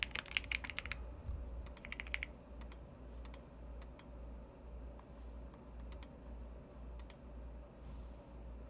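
Computer keyboard typing during a Type Racer session: quick bursts of soft, close key clicks with scattered single taps and pauses, over a low steady hum, with no talking.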